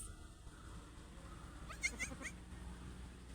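A goat that has just given birth to twins on a sunny farm gives a short bleat around the middle, fairly faint over steady background noise.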